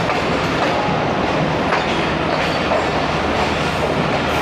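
The 8DN Tezgam express, running from Rawalpindi to Karachi, rumbles past with steady wheel-and-rail roar and faint clickety-clack, loud and continuous throughout with no talk.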